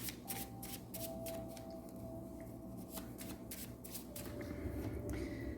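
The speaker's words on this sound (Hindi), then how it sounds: "अभी मैंने स्टार्ट किया था शफलिंग करने" A deck of tarot cards is shuffled by hand in a steady run of soft, riffling card slaps and flutters, close and fairly quiet, with no speech over it.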